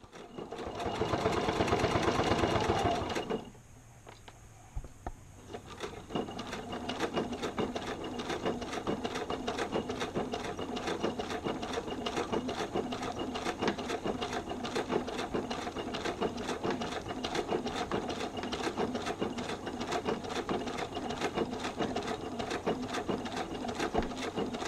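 A sewing machine stitches through a slim line wallet, starting with a short loud burst, pausing briefly, then running in a long steady rapid mechanical chatter up close.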